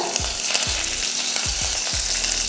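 Curry leaves crackle and spit in hot oil, a steady sizzle broken by several sharp pops, loud and close.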